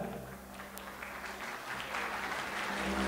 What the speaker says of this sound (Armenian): բարձր ծափարություններով նախապես ողջունել ու շնորհակալություն հայտնել մեր երաշնախմբին